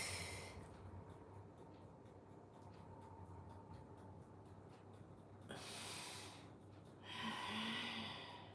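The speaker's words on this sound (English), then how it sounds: "Exhale first." Slow breaths during a breathing and stretching exercise, faint and close. Two clear breathy exhales stand out near the end over a quiet low hum.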